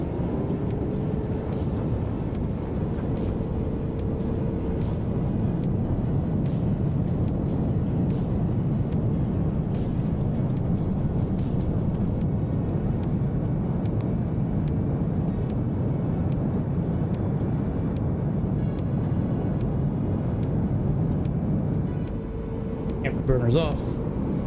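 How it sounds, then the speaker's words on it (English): Jet afterburners roar on takeoff in Microsoft Flight Simulator 2024, a loud, steady, broadband rumble sustained for over twenty seconds, with a faint voice speaking underneath. "We will put our afterburners on for takeoff."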